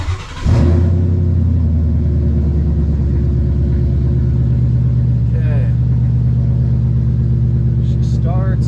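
A Ford F100 pickup's engine cranks and fires at once, then settles into a loud, steady rumbling idle with a slight rev, close up. A voice comes in briefly near the end.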